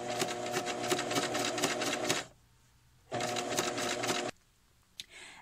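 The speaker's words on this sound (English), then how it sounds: "So I'm going to go ahead and do that on my sewing machine as well." Home sewing machine understitching the facing of a short cardigan, two rapid, steady stitching bursts of about two seconds each with a quiet pause between and a small click near the end.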